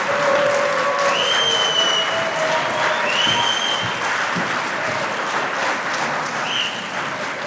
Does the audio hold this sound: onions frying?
no